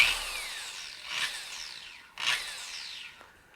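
A FLEX 3401 long-throw dual-action polisher with a foam pad winds up, its motor tone rising and sweeping fairly faintly, with a couple of brief surges as it spins.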